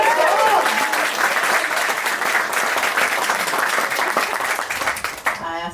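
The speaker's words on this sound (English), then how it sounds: "round of applause, everyone!" Loud, steady applause from a wedding ceremony crowd fills the whole stretch, dense and continuous, tapering slightly near the end.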